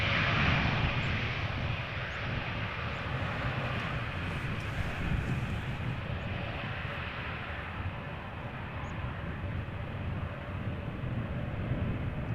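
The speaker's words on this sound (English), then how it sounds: "Stereotypical KLM landing, keeping up the speed, vacate late, sooner to the gate" A KLM airliner landing at Amsterdam Schiphol Airport, its engines giving a loud continuous broadband roar that fades slightly as it rolls on.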